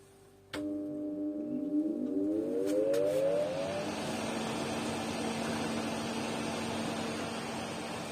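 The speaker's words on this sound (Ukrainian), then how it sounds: "Вентилятор запустився." An electric fan switches on inside a homemade pollen drying cabinet, a sudden onset followed by a rising whine as it spins up to speed, then a steady, fairly loud whirring hum with airy rushing noise.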